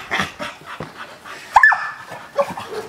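A dog barks, whimpers and pants close by in short, excited bursts with a sharp yelp in the middle, loud and mostly alone.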